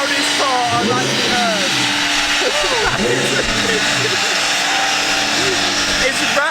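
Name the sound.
twin turbo Lamborghini engine roaring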